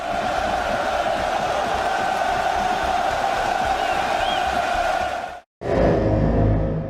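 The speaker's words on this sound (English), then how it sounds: "Just listen to the crowd when they made top 6 at Worlds last year." A large arena crowd roars and cheers at the Rocket League esports World Championship, a sustained loud wash of voices that briefly cuts out before resuming.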